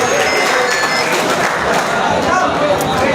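Sustained crowd applause at a Lions Club ceremony in Gangapur City honouring women sanitation workers, a dense steady wash of many hands clapping at close range throughout.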